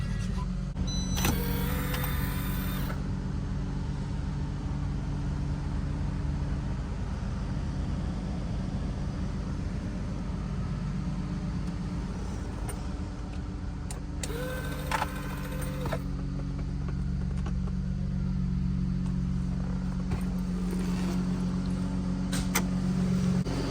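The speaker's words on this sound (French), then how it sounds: "Hop, le moteur au ralenti." 2004 Peugeot 407 taxi engine idling on 100% ethanol with a sport air filter, a low steady hum heard close, with a few brief higher whines and clicks over it and no talking.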